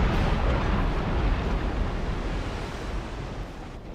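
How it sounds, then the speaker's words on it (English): Ship blowing up in a naval battle in the game Napoleon: Total War, a loud, deep, sustained rumbling roar that fills the scene and slowly fades slightly, with no talking. "Oh, there goes the explosion."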